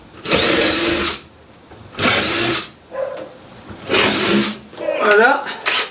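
A power drill bores a hole in several short bursts of whirring, each a second or so long with pauses between, near and moderately loud.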